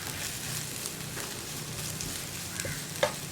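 Ground fennel masala fries in coconut oil while being stirred, a soft continuous sizzle with scraping strokes of the spoon and a small clack near the end.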